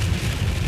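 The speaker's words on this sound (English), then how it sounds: "I don't know if you could hear me because it's like thunderstorming outside right now" Heavy thunderstorm rain beats down steadily outside a car on an Ohio road trip, a dense, continuous hiss and patter with a low rumble underneath.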